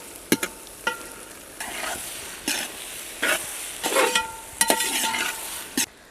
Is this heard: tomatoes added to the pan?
yes